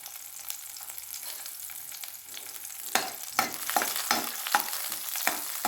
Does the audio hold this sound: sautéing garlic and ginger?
yes